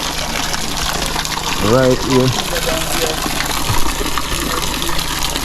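Water flows and gushes steadily at a natural spring pool used for showering, a continuous rushing wash close by, with people talking briefly over it.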